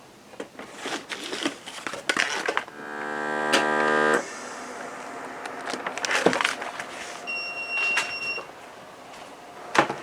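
A vacuum sealer works on bags of freeze-dried chicken parmesan: a buzzing pump runs for about a second and a half among handling clicks and rustles, with a steady hum beneath and a thin tone later on.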